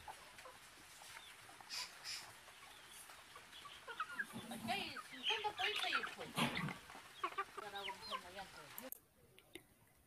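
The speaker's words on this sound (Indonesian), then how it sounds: "Contoh ovivar yang kedua adalah ayam." Chickens clucking close by, scattered short calls building into a busier, louder burst of clucks and squawks before cutting off abruptly.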